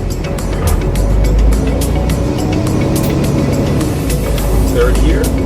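A Peterbilt truck's engine drones steadily as the driver works through gears on an Eaton 18-speed manual transmission, with loud, even engine rumble and slight swells where the gears change.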